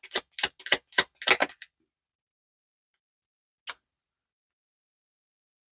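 A quick run of crisp tarot card riffles and snaps, about six in a row, then silence broken by one more snap.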